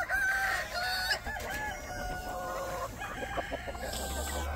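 Roosters crowing and hens clucking on a homestead, several loud close crows rising and falling over a steady low hum, with no talk.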